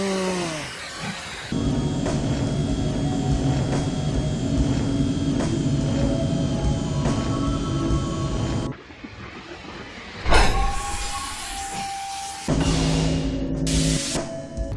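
A train pulls in during a film scene, with a steady loud rumble and rolling clatter of railway cars that cuts away abruptly to other loud bursts of scene sound.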